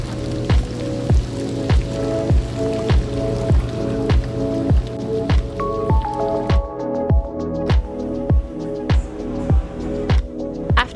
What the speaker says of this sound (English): rain's still coming down